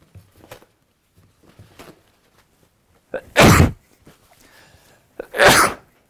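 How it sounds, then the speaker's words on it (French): Two loud, close sneezes about two seconds apart during a home cooking session making accras, with quiet kitchen handling sounds in between. "J'éternue, voilà, c'est la magie du direct."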